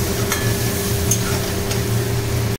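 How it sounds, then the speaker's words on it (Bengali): Masala for tangra fish, with red chilli powder and salt, is stirred and fried in oil, making a continuous close hiss with occasional scraping before stopping abruptly. "দিয়ে এটা নাড়াচাড়া করবেন, যতক্ষণ তেল না ছেড়ে আসে ততক্ষণ এটা কষাতে থাকবেন।"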